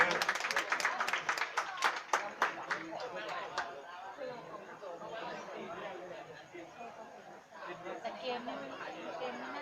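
Crowd at an amateur football cup final in Thailand claps for the runner-up team, a burst of sharp hand claps in the first few seconds fading into steady crowd chatter and murmuring voices.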